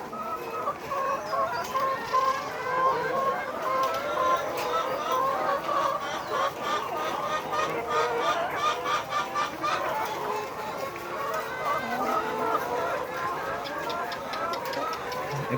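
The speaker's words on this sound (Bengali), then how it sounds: "এই যে একটা মোরগ, এটা হচ্ছে একটা ক্রস মোরগ।" A crossbred rooster, a layer crossed with a native hen, among farm chickens clucking on a village poultry farm. The clucking is continuous and close, mixed with a voice talking over it.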